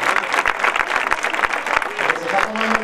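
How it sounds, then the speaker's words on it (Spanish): An audience applauds Juan with steady, dense clapping throughout, while a voice speaks faintly beneath the sound of the crowd. "Aplausos a Juan."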